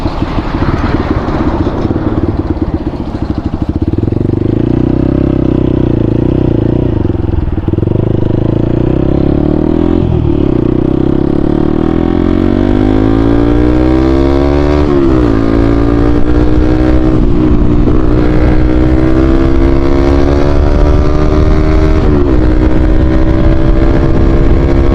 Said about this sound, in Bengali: সাউন্ড শুনতে পারতেছেন কিনা, বাট কি বলবো, বাইকটার বেস মানে ফুললি করা